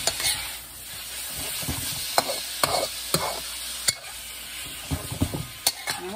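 Beef stir fry sizzles in a hot pan, a constant frying hiss broken by repeated sharp scrapes and clacks of a utensil stirring the meat, close and clear without voices.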